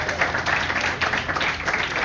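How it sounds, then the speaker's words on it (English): An audience gives a round of sympathetic applause, steady dense clapping from many hands close by, sustained without a break. "Probably nothing better for that kid's ego than pity applause when you really think about it."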